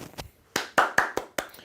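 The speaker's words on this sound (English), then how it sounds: "Nice little golf clap." A slow golf clap from one person reacting to an Alabama vs LSU college football game: about seven sharp, close hand claps spaced unevenly across under two seconds, with no talking.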